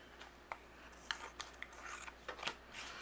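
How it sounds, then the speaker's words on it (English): Scissors trim overhanging paper on a handmade card, giving a few quiet, close snips and rustles of paper in short irregular bursts against a faint background. "I'm going to trim away what's overhanging."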